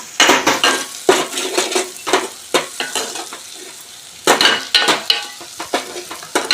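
Onions frying in a pan for mutton lung curry, stirred with a metal utensil: loud bursts of sizzling and scraping clatter come in irregular strokes, pausing briefly near the middle before resuming, close up.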